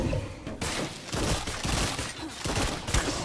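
Gunfire in State of Decay 2 as a group fires on a large zombie, dense overlapping bursts and rapid shots close by, with voices faintly underneath.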